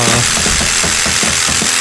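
Soundboard jigsaw effect: a loud, close, buzzing motor with fast, regular chattering strokes, as if a jigsaw blade is cutting, continuous and alone with no talk.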